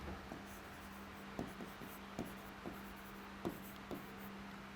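Marker or chalk strokes on a board during a polity lecture, a series of faint, quick scratches and taps in an uneven rhythm with a low hum beneath.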